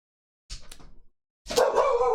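A dog barks twice, two short, close, sharp yips separated by a brief pause, heard alone without talk.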